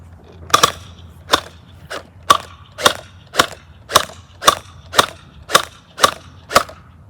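A gel ball blaster fires in semi-auto with eleven sharp, evenly spaced snapping shots, close and loud, about two-thirds of a second apart.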